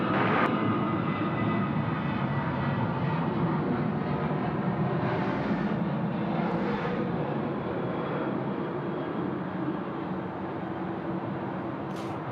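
A large jet airliner arriving at Sydney Airport at night, its engine roar a steady, loud broadband rumble that fills the whole stretch with little change in level.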